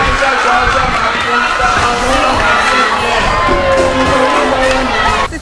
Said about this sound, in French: Seuls les cris de joie assourdissants traduisaient le ouf de soulagement de ces derniers.